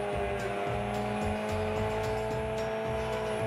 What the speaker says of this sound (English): the impressive performance of the truck with billowing smoke